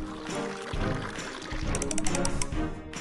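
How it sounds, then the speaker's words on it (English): Juice pours into a popsicle mold in the Smurfs Bakery video game, a continuous liquid pouring and trickling effect with a few light chimes sparkling near the end. "Now choose a nice juice flavor and pour it into the mold."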